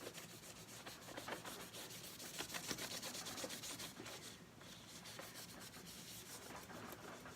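A Magic Eraser scrubs steadily across a dirty laptop during professional cleaning, making a close, continuous rasping rub with quick repeated strokes and no talk.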